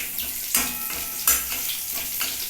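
Ginger and tomato hit hot oil with bay leaf and cumin in a Bengali pan, setting off a steady sizzle with two louder bursts as they drop in, then soft stirring scrapes.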